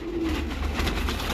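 A golden pigeon on a Rawalpindi rooftop gives a short, soft coo, close by and heard alone over low background hum.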